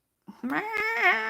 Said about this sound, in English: like meow and let you know